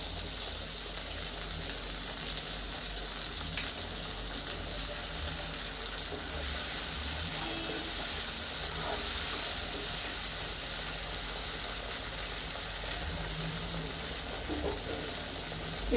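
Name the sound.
sautéing ginger and cumin paste in a pan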